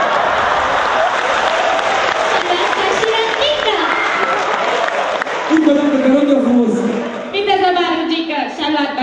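A crowd at a freshman ball applauds for dance couple number six with sustained clapping and cheering, while an announcer talks over it.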